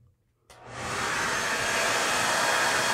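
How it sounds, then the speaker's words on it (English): A hair dryer clicks on after a brief silence, spinning up into a steady, close whooshing hum on its low setting, heating a cellphone screen protector, continuing to the end. "They tell you can use a hairdryer on the low setting"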